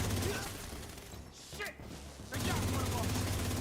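Sustained gunfire in the shooter The Division 2 during a fight at an art museum in Brooklyn, a dense rattle of rapid shots that briefly drops away and then resumes at full loudness.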